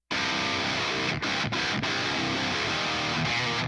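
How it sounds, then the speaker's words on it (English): Thick, high-gain metal guitar through a Mesa Boogie amplifier chugs steadily and loudly, broken by a couple of quick palm-muted stops that cut the sound briefly. "And then let's hear how the Mesa sounds on its own."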